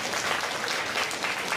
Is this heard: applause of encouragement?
yes